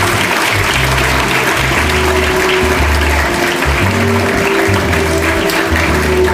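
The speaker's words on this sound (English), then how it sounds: "Yes, everyone, please give them a big round of applause." A hall full of people applauds during a photo session at the World Bank Korea Office's 10th anniversary event, with sustained, loud, even clapping and a low tonal hum running underneath.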